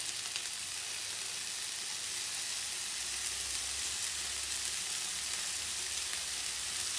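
Minced meat sizzles steadily in a hot pan while browning for a bolognese, a constant close crackle and hiss with no talking.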